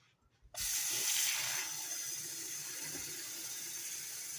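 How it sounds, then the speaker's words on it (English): Water pours into an ionic foot detox basin, starting abruptly as a loud steady splashing hiss that settles into a continuous even flow. "I'm going to add a little bit more water,"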